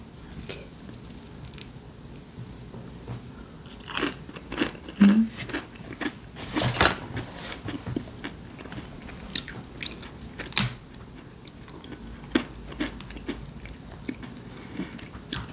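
Someone crunches and bites a mint chocolate Bananakick corn snack close to the microphone, giving irregular crisp snaps and chewing with short quiet gaps between bites and no talk.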